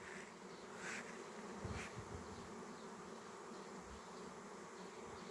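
A honey bee swarm flies near a hive. A faint, continuous buzzing hum goes on throughout, with a few slightly louder passes as individual bees come close.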